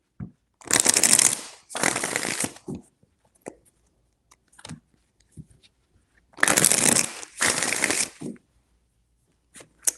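A tarot deck shuffled by hand in two pairs of crisp riffling bursts separated by quiet pauses with small taps and card handling, close up and alone.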